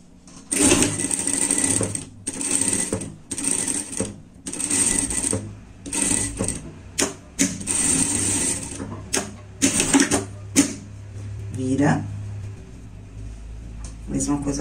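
A sewing machine joins the little ear to the face piece of a lined bear-style pet jacket, running in a series of short, loud whirring bursts separated by brief stops, close by.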